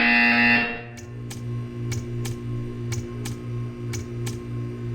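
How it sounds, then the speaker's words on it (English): A Portal 2 test-chamber buzzer sounds as a sharp electronic tone that quickly cuts off, followed by a series of short, evenly spaced ticking pulses over a low steady hum, with no talk. "You will hear a buzzer."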